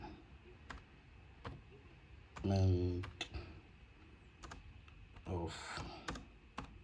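Typing on a desktop computer keyboard, scattered sharp key clicks and taps at an irregular pace, close and moderately quiet, with a person talking between and over the keystrokes.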